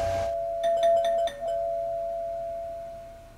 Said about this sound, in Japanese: 玄関のチャイムが鳴った。